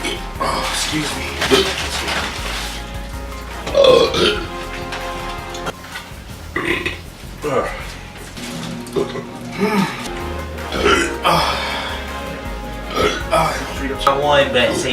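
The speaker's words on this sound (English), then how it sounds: "These burps." Several loud, throaty burps break out at intervals amid chatter and laughter among young people in a classroom, the belches close and punctuating continuous talking.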